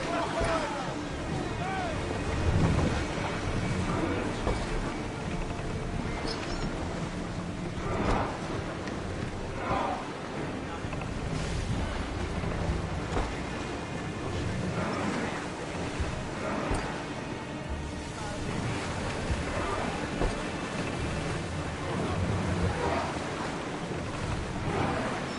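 A ship sails through open sea in Assassin's Creed Odyssey, with steady surging waves and wind rushing continuously, faint crew voices murmuring underneath throughout.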